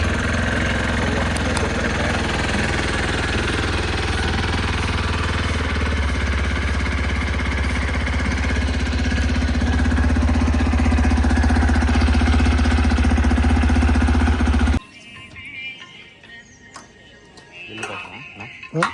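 A motorbike engine runs loud and steady with a constant drone on an early-morning ride in light rain. It cuts off sharply near the end, leaving quieter scattered sounds.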